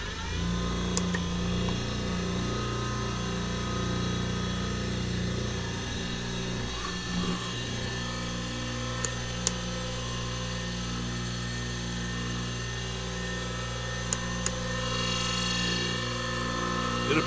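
A vintage UK-made Wolf bench grinder with a faulty switch runs at steady speed, giving a continuous, loud, close motor hum with a whine that holds for the whole stretch.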